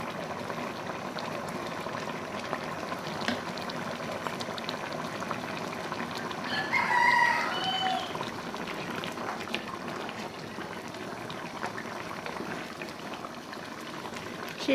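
Bottle gourd and fish simmer in coconut milk, a continuous close bubbling boil that swells briefly midway, with no talking.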